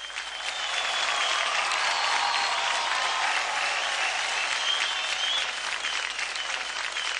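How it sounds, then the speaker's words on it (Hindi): Steady, dense audience applause at the grand finale of a televised dance competition, a loud wash of many hands clapping that swells in quickly and holds evenly throughout, with no talking over it. "प्लीज जोरदार तालियां हो जाए"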